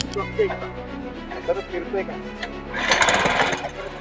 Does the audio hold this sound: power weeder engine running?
yes